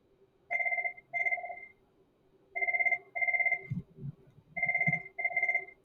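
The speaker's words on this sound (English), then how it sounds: "the phone was ringing" A telephone rings in three paired bursts, each pair of electronic trills separated by short pauses, fairly clear against a faint low background rumble.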